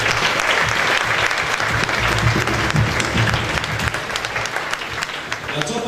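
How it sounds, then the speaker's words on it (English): Audience applause fills a Top Model South Africa pageant grand finale hall, a dense, steady wash of many hands clapping for nearly six seconds, loud and continuous with crowd noise mixed in. "I think that deserves a round of applause."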